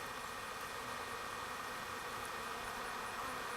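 Honey bees drone steadily around a hive, a faint, continuous buzzing hum with no talk over it.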